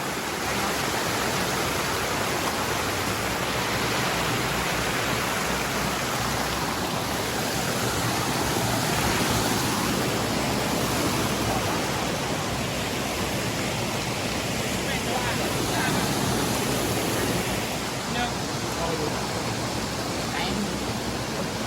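Wat Phu Huai Sai waterfall rushes with a steady, dense broadband roar that stays unbroken from start to finish, heard close up with no other clear sounds.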